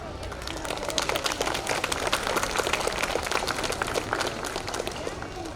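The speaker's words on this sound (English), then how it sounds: "let's welcome them with a big round of applause" Dense, steady applause from a crowd at an Independence Day cultural program, welcoming young singers to perform; many hands clapping continuously and fairly close, with a bit of murmured voice mixed in.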